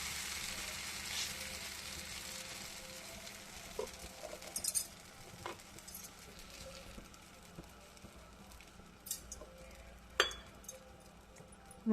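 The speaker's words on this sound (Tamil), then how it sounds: "முருங்கைக்கீரை தோசை ஊற்றிங்கன்னா எண்ணெய் ஊற்றணும்." Oil sizzles softly and steadily as drumstick leaf dosa batter fries on a hot griddle, with a few scrape and clatter sounds from the pan rising above the hiss. There is no talking.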